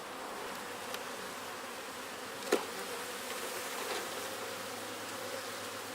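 Honey bees at a homestead hive hum in a dense, steady buzz that fills the whole stretch, with a few louder passes close by and one brief knock.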